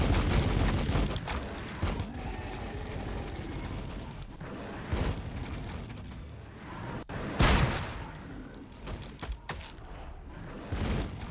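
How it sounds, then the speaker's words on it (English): Artillery fire in the Warhammer 40k Battlesector video game, Chaos Daemons of Khorne battle, comes as repeated heavy booms and blasts with mechanical clatter, several sharp impacts spread across a busy low rumbling battlefield backdrop. "Dang artillery, that mess up my plan."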